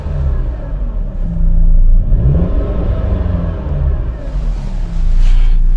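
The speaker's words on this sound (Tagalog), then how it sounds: "Nakaanda, bukas na makina nito eh." A used car with a lit engine warning light idles in a Canadian lot, the engine running with a loud low rumble, rising briefly in a rev before settling back to a steady idle.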